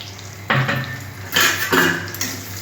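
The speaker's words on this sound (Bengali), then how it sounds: "তেলটা গরম হয়ে গেছে, আমি এখানে জিরে তেজপাতা শুকনো লঙ্কা ফোড়ন দিয়ে দিলাম।" Cumin, bay leaf and dried chillies hit hot oil for a tempering, bursts of sizzling and a few metal scrapes and clinks from a pan, close and without talk.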